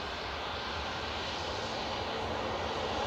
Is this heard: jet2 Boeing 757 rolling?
yes